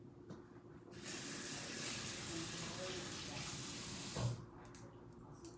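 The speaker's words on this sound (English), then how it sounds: "let me wash my hands" Tap water runs steadily for a few seconds as hands are rinsed under a faucet at home, a soft, even hiss with a brief splash near the end.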